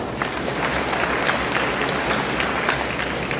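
An audience at a mayor's ceremony for honor graduates and bar and board examinees claps steadily, a dense, even wash of many hands holding at a loud level throughout.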